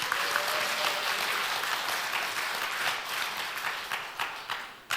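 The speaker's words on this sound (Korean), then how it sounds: "박수 좀 더 크게 한번 쳐주십시오." Audience applause at a televised small-business showcase event, sustained dense clapping from a crowd that thins and fades toward the end.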